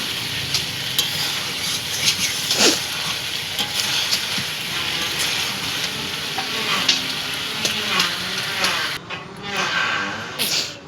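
Chicken and potato sautéing in a pan for chicken kosha, a steady broadband sizzle with repeated scraping stirs and clinks throughout, close and fairly loud, with a brief quieter gap near the end.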